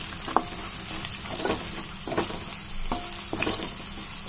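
Boiled taro sizzles in a pan with ginger garlic paste and turmeric, soft frying hiss under repeated scraping stirs and light clinks of a spatula, close and fairly quiet.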